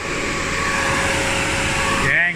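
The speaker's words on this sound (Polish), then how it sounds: "O, jak ładnie idzie wentylatorek." Lada Niva engine idling steadily with its radiator cooling fan whirring, a continuous broadband mechanical hum at close range; a voice briefly speaks near the end.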